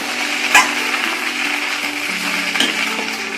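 Gobi Manchurian being stirred with onion in a pan, a steady loud sizzle with scraping of the spoon and a couple of sharper knocks against the pan.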